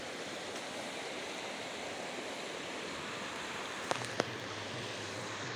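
Steady broadband rush of stream water at a hillside camping spot near Islamabad as people wade through it, continuous and fairly close, with two brief knocks near the end and no talk.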